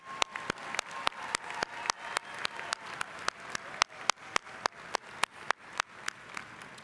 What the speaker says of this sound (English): Will the audience please join me in applauding these honors candidates?